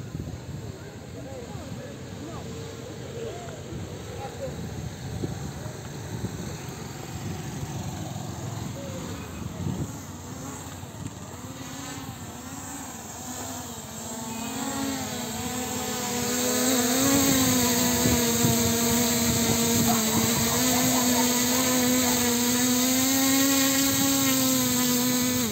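A small drone flies with its battery running low, a steady motor whine with strong harmonic bands that rises in pitch and grows louder in the second half, rising above faint background voices.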